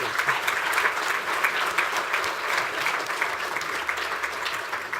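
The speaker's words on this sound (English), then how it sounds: "And please give them a round of applause." Sustained audience applause fills the room at steady volume, a dense wash of many hands clapping with no single voice standing out.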